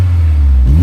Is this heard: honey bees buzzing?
no